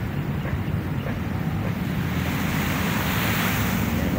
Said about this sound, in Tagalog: Ayan po yung ating dagat, no?